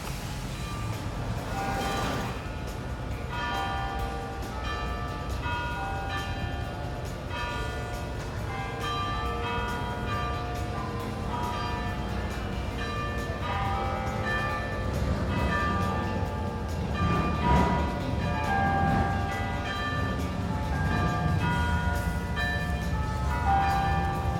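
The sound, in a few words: church bells ringing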